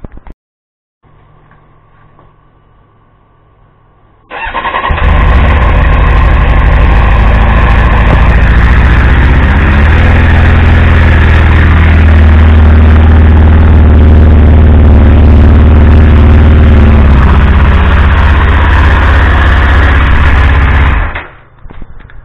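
A 20-year-old Triumph Speed Four motorcycle engine runs loud and close, a steady strong roar sustained for many seconds before cutting off, with no voices over it.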